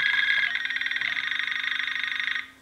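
A Nokia Cityman 150 NMT mobile phone plays a ringing tone, a steady warbling electronic trill lasting over two seconds before it cuts off, close and alone.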